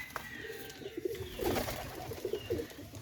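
Pakistani Teddy pigeons coo in low, soft repeated calls, several in a loose rhythm, against a quiet background hiss.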